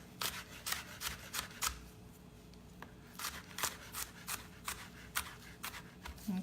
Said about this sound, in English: And then I can just come in and dice them like this.